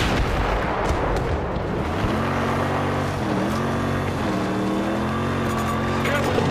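An enemy tank in Battlefield 2042 rumbles loudly with a low engine drone that rises and shifts pitch, amid continuous heavy battlefield noise and blasts.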